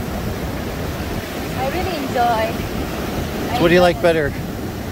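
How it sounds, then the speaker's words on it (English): Big ocean waves break at South Padre Island beach with a constant roar of surf and wind. Nearby voices talk briefly over the churning water. "Waves are pretty big today."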